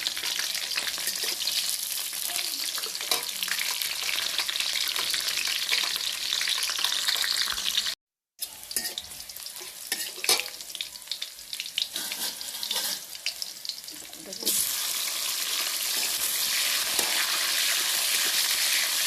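Bay leaf, cardamom and cinnamon fry in oil with a little onion, making a steady close-up sizzle with stirring scrapes, broken by a brief silence before the crackling resumes and swells.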